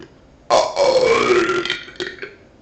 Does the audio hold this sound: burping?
yes